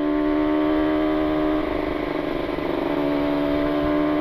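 Two-stroke Kawasaki Ninja 150 RR motorcycle ridden on a road during engine break-in after a new cylinder bore, a loud steady engine drone with a slight pitch waver midway and constant close wind and engine noise.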